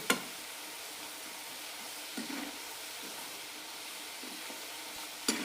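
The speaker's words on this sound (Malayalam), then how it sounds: "കടല അഞ്ചോ ആറോ മിനിറ്റ് കൊണ്ട് ഫ്രൈ ആയി കിട്ടും ചെറുതായി ഇളക്കി കൊടുക്കാം" A quiet, steady sizzle of peanuts frying in oil, with a few brief scraping stirs near the start, middle and end.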